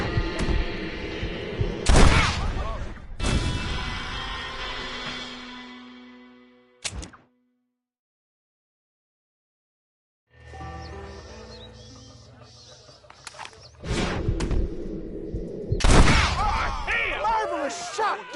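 Sharp gunshot bursts in a Red Dead Redemption shootout, loud broadband cracks near 2 and 3.5 seconds and again around 14 and 16 seconds, separated by a silent gap, with game voices and music underneath.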